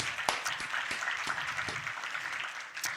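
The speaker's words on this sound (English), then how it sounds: "Go ahead, a round of applause, everybody." Applause from a comedy show audience, a steady, faint wash of hand claps with a few sharper individual claps standing out, continuing for the whole stretch.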